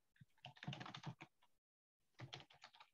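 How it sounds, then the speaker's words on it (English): Rapid clatter of typing on a computer keyboard, dense bursts of keystrokes with a brief silent gap midway, close and fairly clear. "I hear Cheri typing"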